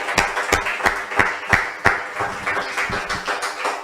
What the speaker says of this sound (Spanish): ¿Cuánto le dan un aplauso al Señor Jesús?